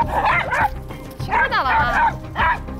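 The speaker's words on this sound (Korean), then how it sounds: "강아지 보면 아주 흥분하네" An overexcited dog lets out repeated high yips and whimpering barks in a few quick bursts on meeting another dog on the street, loud and close.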